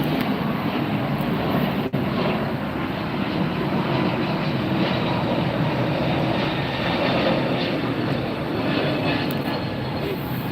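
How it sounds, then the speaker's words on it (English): A Hawaiian Airlines Airbus A321 jet takes off at LAX at night, its engines giving a steady, loud, broadband roar that holds throughout with no talk over it. "Here goes the takeoff. This looks like Hawaiian Airlines,"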